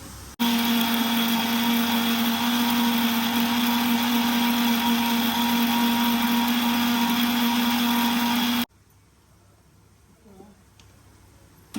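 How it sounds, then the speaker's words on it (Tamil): Electric mixer grinder grinding soaked dried red chillies runs loud and steady with a constant motor whine for about eight seconds, then cuts off abruptly, leaving faint room sound. "இப்போ நான் அரைக்க போகிறேன். இதை அரைச்சி வைக்க போகிறேன்."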